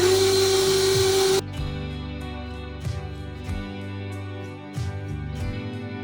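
An electric mixer runs on a slow setting through a pumpkin dip. A loud, harsh burst at the start drops to a low, steady motor hum with soft periodic thumps from the bowl.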